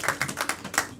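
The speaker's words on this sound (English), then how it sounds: "Clap for Johnny, everybody!" A small group claps for Johnny at an event, producing a quick run of about seven or eight sharp, separate claps with no talking over them.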